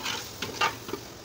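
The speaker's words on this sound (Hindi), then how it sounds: "अब ये एक कलेजी डालेंगे इसमें" Liver pieces dropped into a hot frying pan with onion, giving a short, moderate sizzle with a few brief bursts of spattering.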